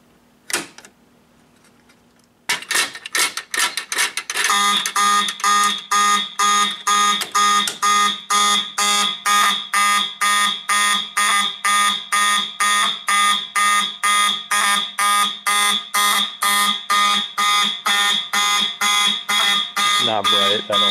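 A building fire alarm system under test starts with a quiet hum, then after a couple of seconds breaks into loud, rapid repeating electronic beeps that pulse steadily for the rest of the clip, close and dominant.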